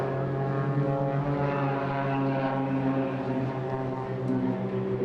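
Propeller aircraft of an aerobatic display team manoeuvre at an airshow, their engines droning loud and steady with slowly shifting pitch, nearby and unbroken throughout.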